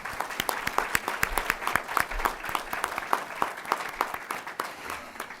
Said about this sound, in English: Would y'all give them a round of applause?